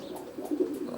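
Racing pigeons coo softly in a loft, a few low, rounded coos rising and falling close by over a faint hum, with no voices.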